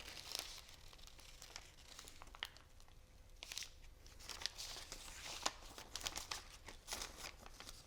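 Vinyl letters being peeled off transfer paper for a Christmas craft project, faint crinkling and soft tearing rustles in short irregular bursts, close and quiet with no talk.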